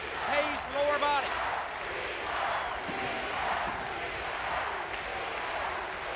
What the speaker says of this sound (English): This crowd here, as we said earlier, really behind the birds.